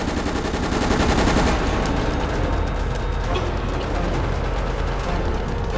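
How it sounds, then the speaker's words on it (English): Continuous rapid gunfire and automatic weapon bursts from the Resident Evil: Operation Raccoon City video game, loud and dense throughout with faint speech mixed in. "Where are they shooting at?"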